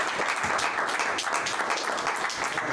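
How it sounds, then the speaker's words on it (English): Brief, fairly soft round of applause from a small audience at a ONE Championship post-fight press conference in Denver for fighter Superlek, a steady patter of clapping heard on its own. "Everyone give a round of applause to"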